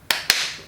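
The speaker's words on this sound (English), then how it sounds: "Clap. What's this sound? Clap." Two quick hand claps, loud and near, the second following a fraction of a second after the first, with a brief room decay.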